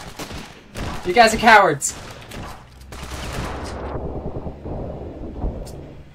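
Gunfire in the shooter game Ravenfield: a cluster of sharp shots and bursts near and loud, followed by scattered distant fire, with someone talking over it.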